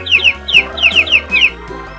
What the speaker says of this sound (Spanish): aquí tenemos este lindo pollito de color amarillo